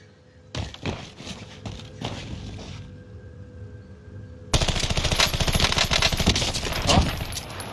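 Automatic rifle fire in a shooting video game: a few scattered single shots give way to a sustained, loud rapid-fire burst that runs to the end, close and dense with no speech.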